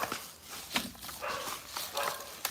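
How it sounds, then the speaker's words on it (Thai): A dog at a house across the street barks in a few short, sharp bursts spread over a couple of seconds, sounding moderately distant against outdoor background noise. "หมาบ้านตรงข้ามนี่ก็เห่าจังเลยนะค"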